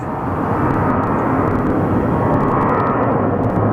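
Airplane turning on the ground at Phoenix Sky Harbor Airport on a windy day, a loud steady engine roar that holds evenly throughout with no talk.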